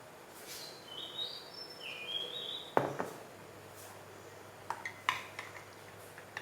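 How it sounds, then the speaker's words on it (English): A spoon stirs classic milk tea with creamer in an 8-ounce cup, giving a few sharp clinks against the cup over soft background noise. Nobody speaks. "Let's give it a stir"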